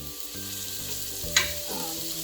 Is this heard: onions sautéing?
yes